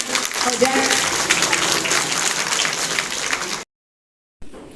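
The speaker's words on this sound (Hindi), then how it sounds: "जोरदार तालियां" Loud, dense applause from the crowd at a Mother's Day talent hunt held by an academy, sustained for a few seconds before cutting off abruptly, then a faint return.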